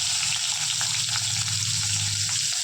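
Steady, loud sizzling and crackling of onions frying in hot oil, continuous throughout with no voices.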